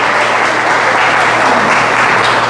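Church congregation breaking into loud, sustained applause that fills the room steadily for the whole stretch, with no voices standing out.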